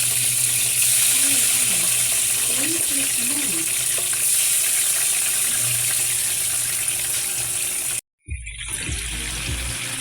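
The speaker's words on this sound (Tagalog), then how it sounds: "prito muna natin kunting prito lang" Fish sizzles and crackles steadily in a hot pan, a continuous frying hiss that briefly drops out near the end before resuming.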